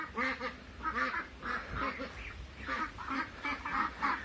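A young duck of about one and a half to three months old gives repeated short, nasal quacks in quick bursts, fairly close, with a faint voice murmuring in the background.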